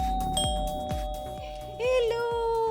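A household doorbell rings with a clear electronic ding-dong chime, bright sustained tones that ring out while footsteps or knocks thud beneath and a voice speaks near the end.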